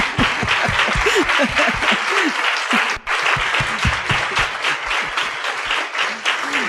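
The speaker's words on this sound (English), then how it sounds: "Can you stand up and just give them an applause?" Applause from a women's conference audience, sustained and lively, with scattered cheers and voices rising over the steady clapping throughout.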